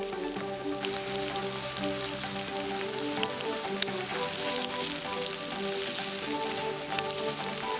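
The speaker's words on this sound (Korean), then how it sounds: "그리고 고기가 다 익으면 기름을 한번 닦아주세요." Thinly sliced beef brisket frying in its own fat in a frying pan, a steady close sizzle with crackling pops and occasional sharp spits over soft music.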